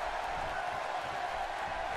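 Steady arena crowd roar in WWE 2K17 during an NXT wrestling match, a broad continuous murmur filling the space at moderate level with no distinct cheers or claps standing out.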